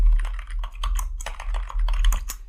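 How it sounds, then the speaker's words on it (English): Rapid clicking keystrokes on a computer keyboard, close and crisp, as a terminal command is typed in a quick, uneven rhythm with no talking. "you can type the command sudo"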